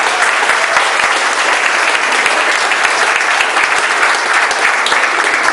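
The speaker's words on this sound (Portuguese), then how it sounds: "Bate as palmas." A church congregation claps hands loudly for Jesus, a dense, energetic and continuous sheet of clapping filling the room close up.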